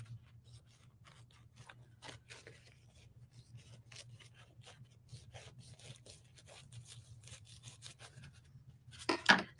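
Scissors cutting a square out of a large luncheon-size paper napkin for a craft: sparse, soft snips and rustles, close and quiet, with a slightly louder burst of cutting at the end.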